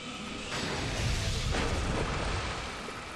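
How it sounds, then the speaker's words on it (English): A lightning cannon blast in Dark Souls 2 erupts as a loud, broad roaring boom that swells and rumbles for a few seconds, dense and noisy with no speech over it. "That's like a lightning cannon right there."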